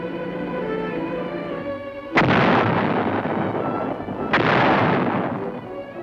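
A lightweight 105-millimeter howitzer fires two heavy booming rounds about two seconds apart, each a sharp loud blast that rolls off into a long decaying rumble over a low droning background.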